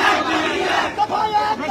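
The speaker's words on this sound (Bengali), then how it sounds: "স্লোগান দিয়ে শেষ করে দিচ্ছি স্লোগান" A crowd at a Bangladeshi quota-reform protest chants a slogan in unison: a loud, dense mass of shouting voices held almost steadily for under two seconds, with a few rhythmic surges near the end.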